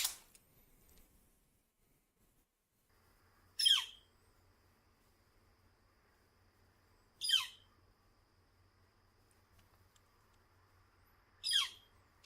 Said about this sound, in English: So this is a fun woodpecker that lives in my area, and it's a beautiful bird